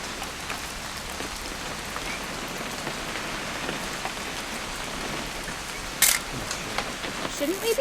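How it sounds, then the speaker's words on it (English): Steady rain pattering on surfaces in the game What Remains of Edith Finch, a dense continuous hiss with a camera click near the end. "It's gonna rain the whole weekend, isn't it?"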